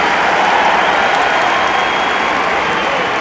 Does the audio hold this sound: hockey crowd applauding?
yes